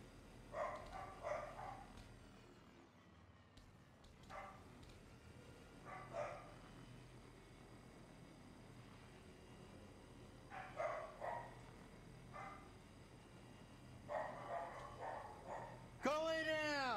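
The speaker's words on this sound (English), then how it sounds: "Those are bad, bad dogs." Several dogs, including Harley and Lily, bark in repeated short bursts around a room, with yips between volleys, while a voice talks over them at times.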